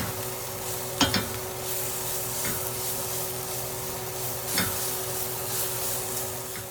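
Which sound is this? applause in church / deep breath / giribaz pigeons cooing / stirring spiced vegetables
stirring spiced vegetables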